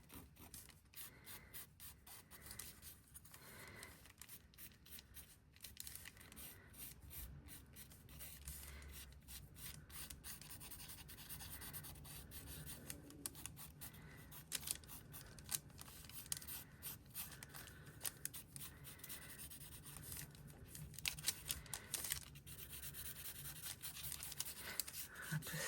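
Charcoal rubbed over a mixed-media journal tag made from paper scraps, giving a steady, soft dry scraping texture that continues close up for the whole stretch with no talking.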